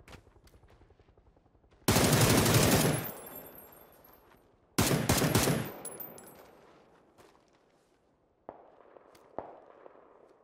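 Several loud bursts of automatic gunfire in the battle royale game PUBG on console, two long volleys followed by scattered single shots fading off.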